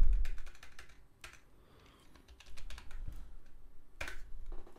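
Rapid keystrokes on a computer keyboard while a sequence name is typed in editing software, a close, quiet burst of clicks with a brief pause before a final flurry.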